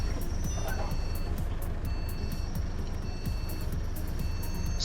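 Bus reversing warning from OMSI 2, an unusual hissing white-noise style alert rather than a tonal beep, pulsing steadily over a constant engine idle with no talking.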